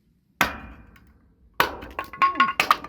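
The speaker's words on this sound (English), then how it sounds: "yeah, we're chopping some more firewood, some good cedar." Cedar firewood being chopped at a campground: sharp, woody impact cracks, one isolated strike followed by a cluster of quicker hits and splintering clinks, close and fairly loud.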